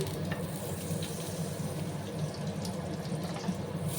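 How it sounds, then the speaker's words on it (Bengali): Butter and eggs frying in hot white oil in a pan, a steady close sizzle with soft crackling that runs evenly throughout, no talking over it. "আমি বাটারও অ্যাড করে দিলাম"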